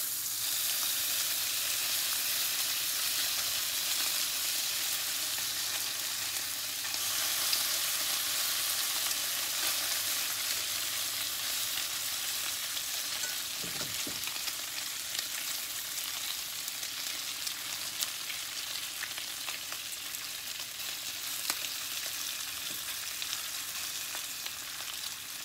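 Bacon fries in a pan with a continuous, dense sizzle and crackle that holds steady and close for the whole stretch, with no talking over it.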